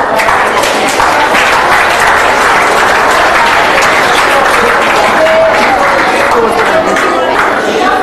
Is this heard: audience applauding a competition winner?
yes